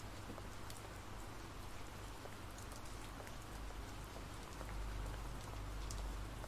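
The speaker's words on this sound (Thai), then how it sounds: "ฝนตกจนจะไปหวัดอยู่แล้ว" Heavy rain pours in the horror video game Hibernation, a dense, continuous hiss of drops on surfaces at steady loudness with a low rumble swelling near the end, no voices.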